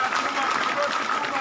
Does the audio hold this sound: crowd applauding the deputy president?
yes